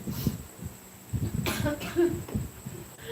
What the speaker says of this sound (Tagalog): At yun na naman ang aking ubo.